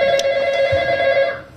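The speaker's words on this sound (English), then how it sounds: "See, that'll stop when you pick up the phone." A telephone rings steadily and loudly in a sitcom apartment scene, its bright electronic tone holding through the clip before fading at the end.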